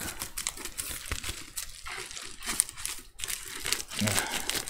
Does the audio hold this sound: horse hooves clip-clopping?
no